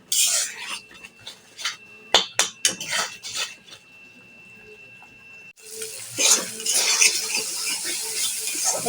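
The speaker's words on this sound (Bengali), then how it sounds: "এখন মশলাটাকে ভালো করে কষিয়ে নেব।" Spice masala being stir-fried for coriander chicken: close metallic scrapes and quick clinks of a spoon against the pan, then a steadier sizzle as frying continues toward the end.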